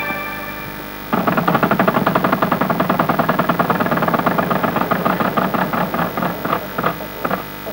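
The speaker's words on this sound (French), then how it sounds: "Allez-y, vous lancez la roue, bonne chance." A prize wheel spinning on the French television game show La roue de la fortune in 1996: a loud rapid ticking of the pointer against pegs that starts suddenly, then slows toward the end.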